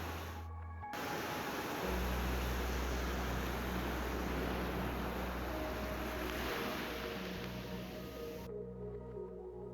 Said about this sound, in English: The roaring waves can sound like engines in the distance, filling the air with deep thunder and salty mist.